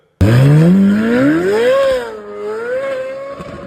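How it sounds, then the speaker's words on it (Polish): Flat-plane crank V8 of a Corvette C8 Z06 bursts to life and climbs in pitch through a high-revving wail, then eases off and holds a lower steady drone, loud and close with no talking. "czyli jest to dosyć wysokoobrotowy silnik. I brzmi prawie jak bolid F1"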